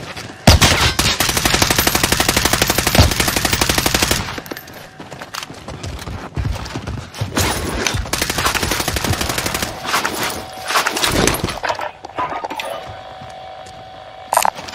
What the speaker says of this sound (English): I'm taking fire here!